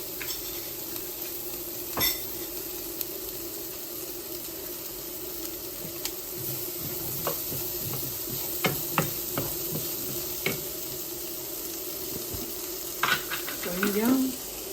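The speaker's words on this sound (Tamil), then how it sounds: "சட்டி சாஞ்சிட்டு நான் ஒனியனை போடுறேன்." Onion fries in a tilted pan for a beef curry, a continuous soft sizzle with occasional scrapes and clinks of a utensil stirring against the pan, close and moderately quiet.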